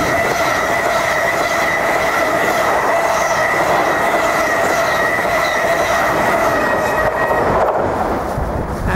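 A Class 360 electric multiple unit runs through Marks Tey station without stopping, a loud, steady roar of wheels and rail that holds close throughout with squealing overtones, then thins as the train clears.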